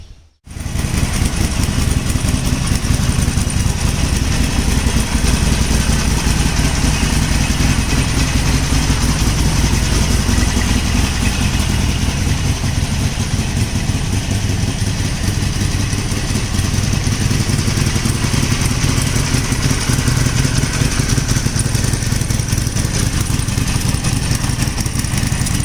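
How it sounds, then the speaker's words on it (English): A Harley-Davidson Forty-Eight motorcycle with stock exhaust pipes idles close by, a steady, loud, deep rumble that holds evenly for about twenty-five seconds with no voices over it. "The pipes sound really nice. The stock pipes when the bike is idle. I'll just show you how it sounds."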